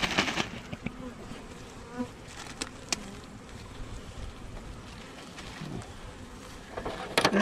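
A cluster of honeybees buzzing around a spring hive while sugar mush is cleared out. The hum is faint and steady with scattered close passes and light handling noise, and no one speaks.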